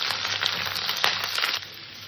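Cauliflower stems and chopped radish sauté in a hot pan, giving a steady close sizzle with bright crackling pops that eases off slightly near the end.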